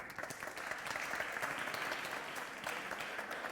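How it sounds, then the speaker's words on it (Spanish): A church congregation clapping for first-time visitors, steady mid-distance applause from many hands filling the whole stretch. "Un aplauso."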